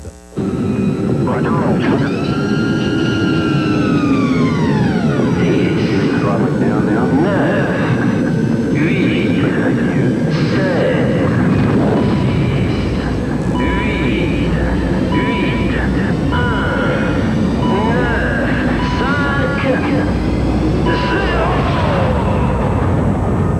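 Airplane taking off as a sound effect in a radio advertisement, a loud roaring jet swell with rising and falling engine whine, heard under continuous talk throughout.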